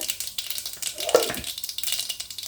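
Mustard seeds and urad dal fry in hot coconut oil, giving a soft, steady sizzle with faint crackling pops, close and quiet, with no talking.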